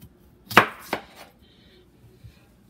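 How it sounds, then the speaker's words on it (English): A knife cutting a potato in half on a cutting board: two sharp close knocks as the blade strikes through and hits the board, then near silence with a faint soft tap. "I'm just going to cut it in half."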